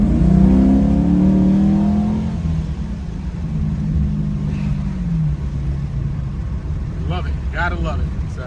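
The V8 of a 2013 Chevy Caprice PPV police car revs up with a loud, rising growl, then drops back to a lower, steady rumble close by, with a voice briefly heard near the end.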